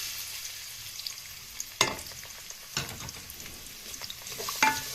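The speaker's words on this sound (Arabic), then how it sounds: "اشوح البصله بتاعتي" Onion sautéing in a cooking pot for a zucchini and meat stew, giving a steady soft sizzle with sharp scraping stirs about every second, up close and with no talking.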